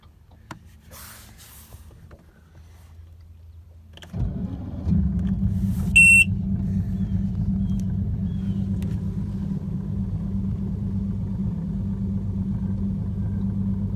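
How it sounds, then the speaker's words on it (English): An Evinrude ETEC 150HO outboard engine on a Glastron CVX16 boat starts after a few quiet clicks, then settles into a steady, low, rumbling idle, close up and with no talk. "self-winterization is by starting the engine with the throttle in the forward position"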